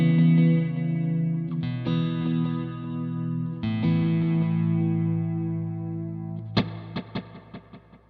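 An electric guitar plays through a Strymon El Capistan set to dual tape head delay with spring reverb, giving a wet sound. Ringing chords stack on their echoes, then sharp plucked notes repeat and decay.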